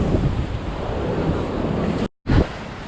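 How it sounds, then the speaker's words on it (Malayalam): Sea waves crash and roar at Azhithala beach in Kasaragod as high tide begins, a loud continuous surf wash with heavy wind buffeting the microphone and a brief dropout near the end. "നല്ല തിരയടിക്കുന്ന സമയമാണ്, ഹൈ ടൈഡ് തുടങ്ങുന്ന സമയമാണ്."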